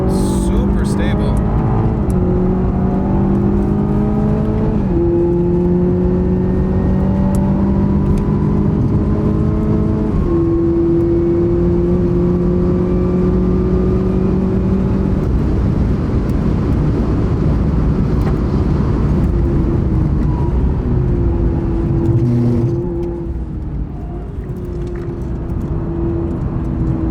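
Toyota Supra engine held at full throttle on the Nürburgring, a loud continuous drone climbing in pitch through repeated gear changes, with tire and wind roar beneath and talk running over it.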